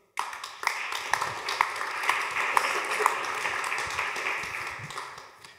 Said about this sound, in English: So please give a round of applause to our guests